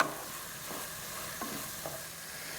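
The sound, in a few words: risotto rice mixture bubbling in a pan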